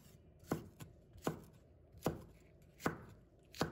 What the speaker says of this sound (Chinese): 把它切成丝